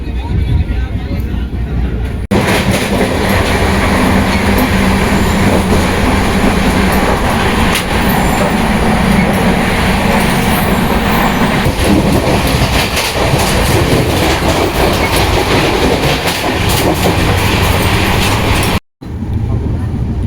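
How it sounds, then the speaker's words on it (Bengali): A passenger train pulls out of Kumardubi station toward Dhanbad, heard from on board as a loud, continuous rumble with rhythmic clickety-clack of wheels over rail joints, a brief dropout near the end. "এই কুমারডুবি ছেড়ে বেরিয়ে যাচ্ছে ট্রেন"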